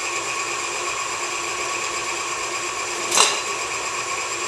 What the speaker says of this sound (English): You want to really beat that sugar and butter and egg together, and make it kind of fluffy.